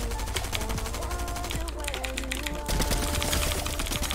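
Rapid bursts of gunfire in Fortnite Arena, dense and continuous with a steady crackling pattern, mixed with sharp clicking like fast keyboard typing throughout.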